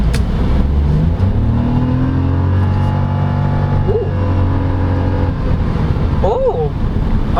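A 2023 Toyota Raize 1.0 G turbocharged engine accelerates from inside the cabin, its drone sweeping upward through the gears in loud, steady pulls, with brief voice fragments over it.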